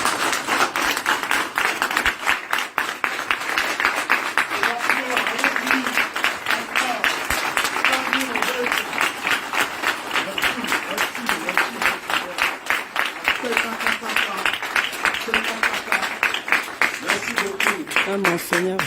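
Sustained audience applause and clapping at a citizens' meeting in Paris, a dense, steady wash of many hands lasting throughout, with voices mixed in beneath.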